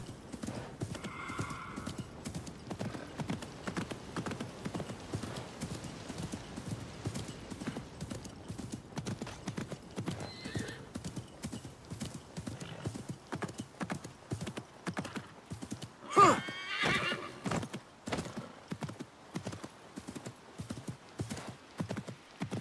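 A horse gallops in the video game Assassin's Creed Mirage on PC, its hooves beating a steady, quick clip-clop rhythm throughout, with a brief louder whinny partway through.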